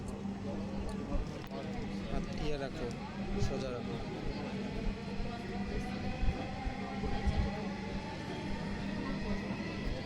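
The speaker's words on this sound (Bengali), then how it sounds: "এখন আমরা মেট্রোতে উঠে পড়েছি" Steady rumble of a moving metro train heard from inside a carriage, with a constant low hum and people talking faintly in the background.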